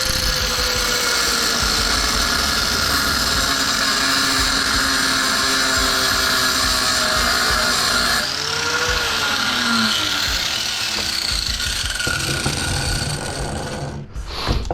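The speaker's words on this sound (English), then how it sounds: "If you grind that weld, it makes it a lot easier." A power grinder whines loudly and continuously against a weld on a microwave oven part, its pitch dipping and shifting under load before cutting off sharply at the end.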